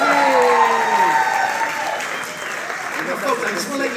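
A full theater crowd at a fundraiser event applauds and cheers, a dense, steady wash of clapping that swells at first and then eases slightly while continuing throughout.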